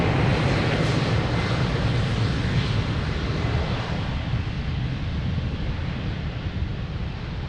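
Airplane taking off at Lisbon Airport: a loud, steady broadband engine roar fills the whole stretch, easing only slightly toward the end, with no talking.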